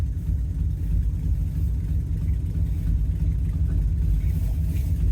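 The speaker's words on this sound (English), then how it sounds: "It needs a new set of headers, but it's driving pretty nice." A 1970 Dodge Challenger R/T clone with a 440 Six Pack V8 and leaking headers drives along, its deep engine rumble steady and loud throughout, close and continuous with no talk over it.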